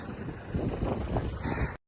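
Strong wind gusting at the high mountain Rohtang Pass, a close, rough buffeting roar across the microphone for under two seconds, with no talk.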